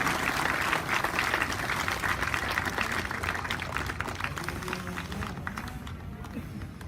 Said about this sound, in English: give a round of applause to our Excellencies.